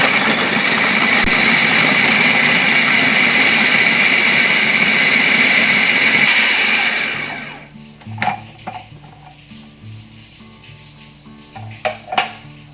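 A food processor grinds cassava into coarse rice-like bits without added water, a loud steady whirring roar that cuts off after about six seconds, then some quieter clinks and knocks of the bowl and utensils.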